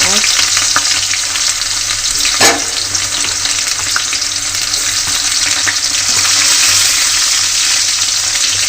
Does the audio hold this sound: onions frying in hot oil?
yes